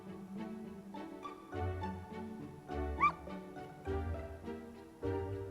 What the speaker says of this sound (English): He's a cute puppy dog!